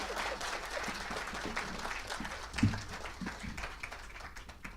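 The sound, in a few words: audience clapping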